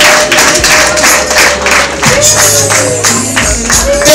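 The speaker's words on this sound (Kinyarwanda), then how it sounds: "mukamuha amashyi" Clapping welcomes the bride at a wedding celebration in Rubavu, Rwanda, a dense, loud, steady patter of many hands over sustained musical tones and crowd noise.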